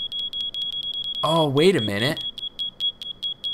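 A rapid, evenly pulsing high beep from a Minecraft fire alarm repeats throughout, loud and steady, briefly covered when someone speaks over it.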